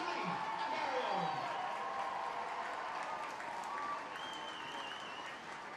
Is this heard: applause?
yes